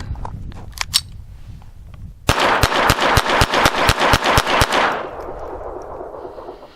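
A Browning Buckmark pistol fires ten rounds of CCI ammunition in a quick, steady string of sharp, loud cracks outdoors, each shot ringing out close by before the sound trails off.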